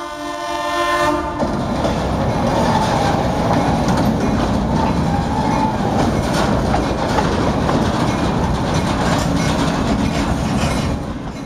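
A loud train hauled by a 1951 diesel locomotive built for the Atchison, Topeka and Santa Fe Railroad rumbles past in Westfield, Massachusetts, with a steady clatter of wheels on rails, opening with a brief horn-like tone before the heavy roar continues.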